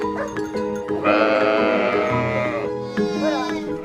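Goats bleat on a family farm an hour from Florence, a loud, wavering, drawn-out cry near the middle with shorter calls before and after it.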